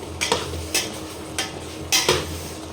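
A spatula scrapes and clinks against a pan as vegetables roast, several sharp bursts spaced unevenly over a low steady hum, close and moderately loud with no talking.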